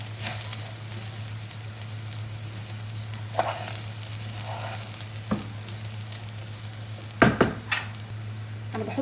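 Rice sizzles steadily as it is stirred through hot oil in a pan, a continuous frying hiss with a few soft scrapes and clinks of the spoon against the pot.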